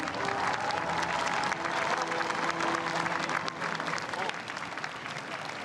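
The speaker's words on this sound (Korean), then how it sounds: "여러분 큰 박수 부탁드리겠습니다" Loud, sustained audience applause at a South Korean military parade, following an aerial formation flight; dense clapping fills the whole stretch with a faint voice or tone beneath.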